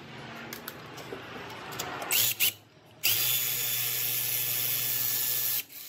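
A power tool drives out alternator bolts on a 2010 Toyota Corolla 1.8 L. It whirs loudly in short bursts, stops, then gives one long steady run that cuts off abruptly.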